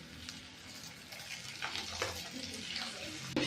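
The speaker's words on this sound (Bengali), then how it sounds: "ডিম দিয়ে ভালো করে ভেজে নেব" A vegetable-batter roti with beaten egg poured over it fries in a pan, a quiet crackling sizzle with a few soft stirring scrapes and a louder sputter at the very end.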